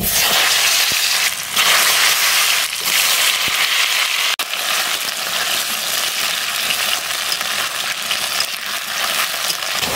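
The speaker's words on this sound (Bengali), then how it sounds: "এখন আমি আলুগুলো ভেজে নেব।" Potatoes fry in hot oil, a dense steady sizzle and crackle filling the whole stretch, loud and close with a few brief pops.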